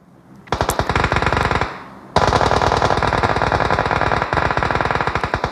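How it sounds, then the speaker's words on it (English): Rapid automatic weapon fire in a video game, a steady close stream of shots that breaks off briefly before resuming and continuing without letup. "Firing some bullets."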